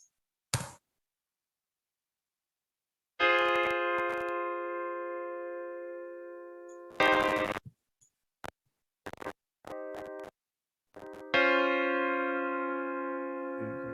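Addictive Keys virtual grand piano sounding sustained chords and single notes, each ringing out and decaying, separated by silent gaps and a few sharp clicks, clean and close with no talking.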